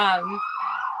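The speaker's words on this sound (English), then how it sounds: "Sorry about the sirens." A siren wails briefly, its pitch sliding as it sounds, with a voice overlapping at the start.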